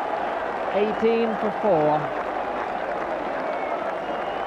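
Cricket crowd at Southampton in 1977 roaring and applauding after a hat-trick, a dense, steady wash of cheering and clapping that runs under an excited commentator's voice.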